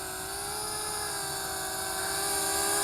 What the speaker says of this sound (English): So, a little selfie drone.